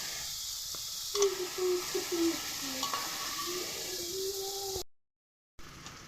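Boiled potatoes and taro fry in a pan with a steady soft sizzle while a utensil stirs and scrapes against the metal now and then, followed by a brief silence and a faint return of sizzling.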